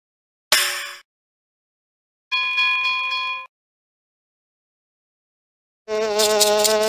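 Cartoon buzzing bee sound effect on a children's TV show: three separate bursts, a short rasping buzz, a longer steady tonal buzz, then a louder, brighter buzzing hum, each separated by silence, with no talking.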